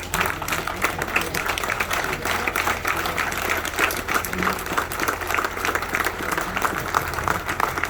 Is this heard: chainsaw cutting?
no